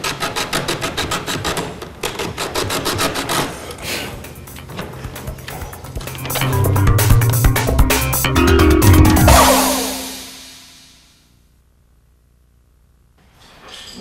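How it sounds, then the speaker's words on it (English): Sanding a small bevel on the top edge of a quick cove backsplash molding, with busy rubbing, rasping strokes for several seconds that swell louder and heavier near the end before stopping, leaving silence. "Simply sand a small bevel on the top edge of the opposing quick cove molding"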